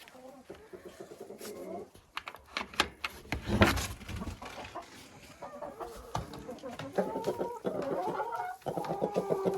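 Hens cluck in a backyard dacha poultry enclosure, a busy overlapping chorus of close, repeated calls that grows louder and denser toward the end, with someone speaking over part of it.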